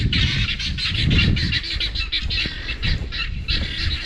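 Guinea fowl squawk repeatedly in harsh, rapid bursts as they flee, a loud, clamorous chorus of calls close by.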